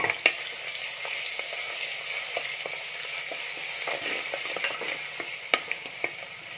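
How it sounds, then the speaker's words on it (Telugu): Ginger garlic paste sizzles in hot oil in a clay pot for a country chicken curry, a steady close hiss broken by scattered sharp stirring clicks and spatters. "అది ఆయిల్ వేడైంది. కొద్దిగా అల్లం వెల్లుల్లి పేస్ట్ వేద్దాము."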